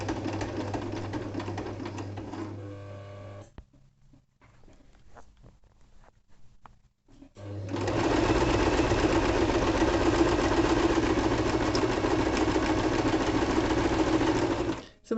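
A Singer 2250 sewing machine stitches a buttonhole with a loud, fast, steady mechanical whir that stops for a few seconds of quiet clicks and handling before restarting at full speed.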